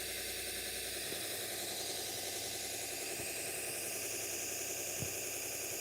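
A knife sharpening machine running at 2000 RPM, edge leading on a Damascus Zwilling knife, making a dense continuous whirring and grinding drone with faint rattles and occasional soft knocks, steady and close.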